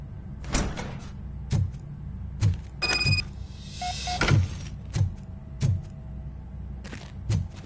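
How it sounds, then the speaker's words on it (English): A door being opened in a game with a cat, heard as a series of sharp, evenly spaced thumps and clunks with a brief creak and rattle midway, fairly close and with no talking. "Now let me get that door open for you."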